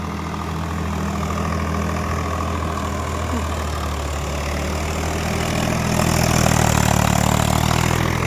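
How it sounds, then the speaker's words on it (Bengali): A Swaraj 744 XT 4WD tractor runs a 72-blade rotavator through soil in second gear under light load, producing a steady, close engine drone that swells slightly toward the end. "হালকা ইঞ্জিনে লোড পড়ছে, মাটি সেম।"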